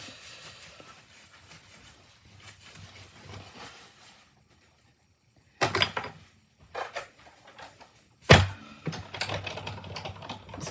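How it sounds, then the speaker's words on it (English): A manual die cut machine cuts paper for a handmade Easter card: quiet handling and faint rattles, then a couple of sharp mechanical clunks and clattering bursts close by, with no voices. "we're going to grab the die cut machine so we can do a little bit of die cutting"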